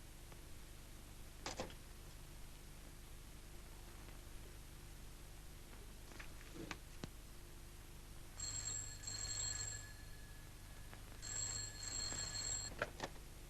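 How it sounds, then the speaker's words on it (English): An old telephone bell in a 1936 film rings in two bursts against faint hiss, with a few soft clicks beforehand. "Get Mr. Hanson for me on the phone, will you?"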